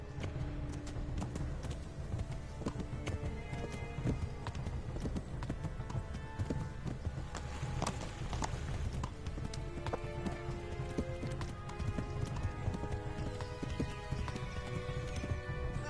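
A horse in a PS4 video game, hooves clip-clopping in a steady galloping rhythm throughout, with occasional game effects layered in and no talking.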